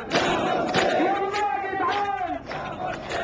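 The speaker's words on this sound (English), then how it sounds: "Crowds are chanting the same slogans now against their first leader." A large crowd chants slogans in unison in Cairo's Tahrir Square, a dense rising-and-falling roar of many voices with rhythmic shouted phrases, loud and sustained throughout.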